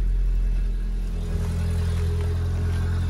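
1997 Volkswagen Golf Estate with an exhaust issue, running just after starting: a steady, loud, low engine drone and rumble that continues unchanged throughout.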